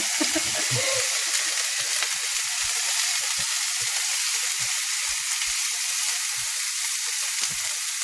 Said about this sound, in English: we stir fry the lentil with the garlic and onions